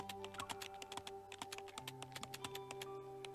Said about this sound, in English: His slender fingers swiftly dance across the keyboard, producing a constant click-clack sound.